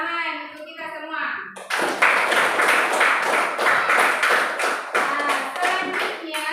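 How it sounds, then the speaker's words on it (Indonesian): A classroom of children breaks into loud, rapid clapping after a short spoken line, with the dense claps continuing for several seconds and children's voices mixed in. "Tepuk tangan untuk kita semua"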